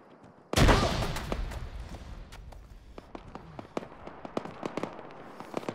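A grenade blows up in a military shooter game: one sudden loud close blast with a decaying rumble, followed by scattered sharp cracks and pops of gunfire over the next few seconds.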